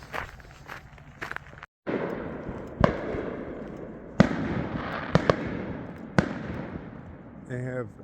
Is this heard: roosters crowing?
no